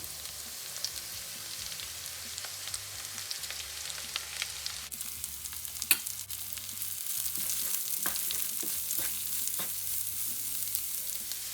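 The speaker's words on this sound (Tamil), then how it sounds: "வெங்காயம் ஒரு அரைவாசி வதங்கின பிறகு அந்த வெட்டி வச்ச வெங்காய பூவை சேர்ப்போம்." Onion flower stalks tossed in with half-sautéed onions fry in a pan, a steady sizzle with occasional stirring scrapes that grows denser and louder partway through, no voices over it.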